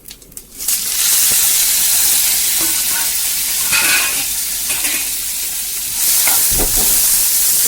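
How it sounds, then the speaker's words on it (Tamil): Loud, close sizzling as small shallots, tomato and garlic sauté in hot coconut oil in a pan, a continuous hiss with brief stirring scrapes and a short pause near the start. "சின்ன வெங்காயம் தக்காளி ஒரு வர வடக்காய் கிள்ளி வச்சது பூண்டு கொஞ்சம் போட்டு நல்லா வதக்கணும்"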